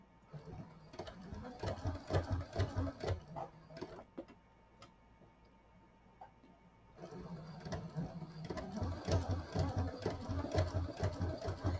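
A sewing machine stitching sticky vinyl runs in rapid mechanical ticking bursts, briefly slowing and quieting midway before stitching resumes at full pace.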